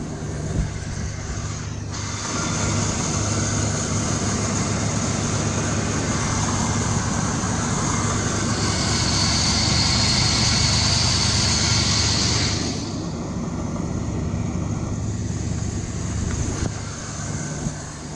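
A 1978 Ford E150 van engine runs at a steady idle, a constant close rumble that rises slightly in pitch midway and then settles back, with no voices.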